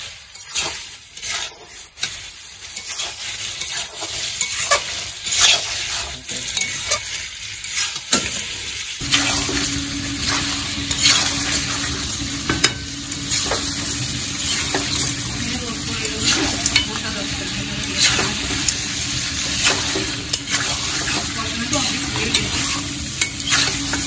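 Mutton curry frying in oil in a pan, with steady sizzling and repeated scraping stirring strokes throughout, close and loud, growing fuller after the oil goes in.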